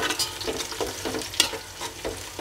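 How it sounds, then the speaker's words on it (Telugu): Whole green chillies, five or six of them, drop into hot oil in a pot for prawn biryani and sizzle steadily, with stirring scrapes and small crackling bursts up close and no talk. "పచ్చిమిర్చి కూడా వేసుకుంటున్నాను ఒక 5-6."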